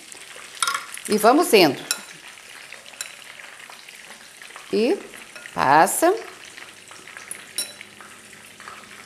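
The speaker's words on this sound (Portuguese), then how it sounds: "E vamos fritando." Egg-and-breadcrumb coated meatballs frying in oil, a steady soft sizzle with a few louder bursts as pieces are turned or moved in the pan, while someone speaks briefly between them.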